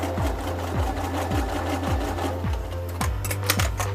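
A sewing machine stitches a leather sunglass case, its needle thumping in a quick, even rhythm of close, loud strokes over a steady motor hum, with no talk.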